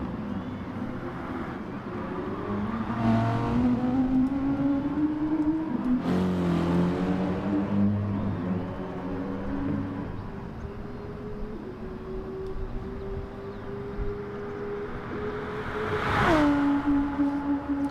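Race cars, an Audi R8 and a BMW, roar past in an endurance race at Spa. Engines rise and fall through gear changes, with loud close passes near the middle and again near the end.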